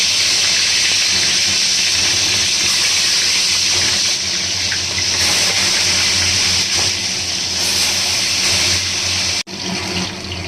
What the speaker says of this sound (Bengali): এবার আমি তেলটা গরম হয়ে গেছে এক এক করে দিয়ে দেবো